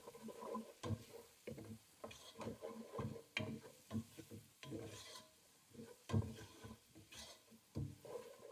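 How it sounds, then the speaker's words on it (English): Leeks cooking in a pan: soft stirring and scraping strokes in an irregular rhythm over a faint sizzle, close and quiet, with no voices. "while leeks are cooking"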